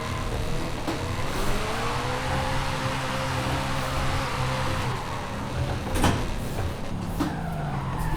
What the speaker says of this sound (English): Let's see if we can make a nice slide here with the clutch.